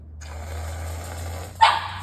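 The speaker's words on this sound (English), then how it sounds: "My dogs might bark or go a little crazy because they love Ready Whip." Pet dogs bark once or twice, a short loud outburst near the end over a steady low household hum, close by in a kitchen where a pumpkin dessert with whipped topping is being served.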